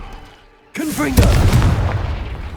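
A Confringo explosive spell goes off in Hogwarts Legacy: after a quiet lead-in, a short shouted voice gives way to a sudden loud, booming blast that rumbles and trails away.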